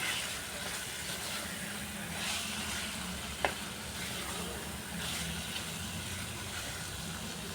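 Parboiled potatoes with salt and spices fry in a pan, a soft continuous sizzle at low level, with a single brief clink of a utensil midway.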